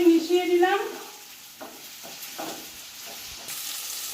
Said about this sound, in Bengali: আমি একটু ভালো করে মিশিয়ে দিলাম।